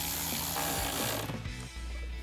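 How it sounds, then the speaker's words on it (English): A ratchet with an extension and 10mm socket clicks steadily, tightening a nut while installing fog lights on a 2021-2023 Ford F-150, close and alone without talk. "So we're gonna grab our ratchet, extension, and 10mm socket."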